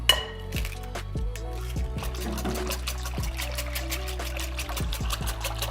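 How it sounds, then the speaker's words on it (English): Eggs slide into a bread pudding mixture in a bowl, with soft liquid plops and wet trickling among a few light clinks, fairly close. "Now we're gonna go ahead and add our eggs in."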